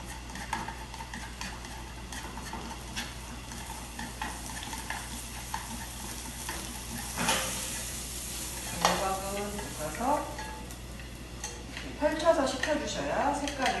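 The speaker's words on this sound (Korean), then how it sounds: "팬에 식용유를 살짝 두르고 깨끗한 재료 애호박 먼저 볶아주겠습니다" Zucchini stir-frying in a pan with a little cooking oil, a faint steady sizzle with occasional utensil scrapes and ticks, while a person talks over it.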